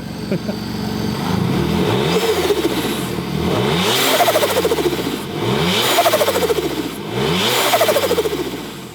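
A supercharged Hyundai Genesis revs its engine hard, close by. Four rising and falling bursts swell to a roar and drop back between them, with brief voices nearby.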